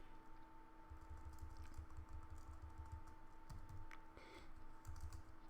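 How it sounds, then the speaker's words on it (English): Typing on a computer keyboard gives quiet, close key clicks in short bursts and runs, set over a faint steady electronic hum, with no voices. "I'm going to type in chmod plus executable"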